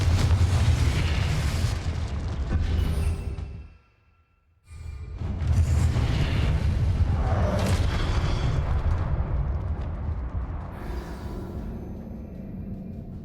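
Confringo blasting spell in the video game Hogwarts Legacy, a loud booming explosion with a rumbling tail, a short gap, then a second heavy blast that decays slowly.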